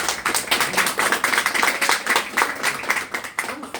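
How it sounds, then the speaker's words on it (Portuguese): A church congregation claps together, a rapid, dense patter of many hands that holds steady for several seconds, close and fairly loud, with faint voices mixed in. "Vamos aplaudir Jesus?"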